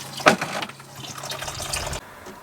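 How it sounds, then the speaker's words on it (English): Warm water runs into a wash container for rope cleaning, a steady splashing fill with a sharper gush near the start before the flow cuts off abruptly. "now we just fill it with water and put in some clothes detergent"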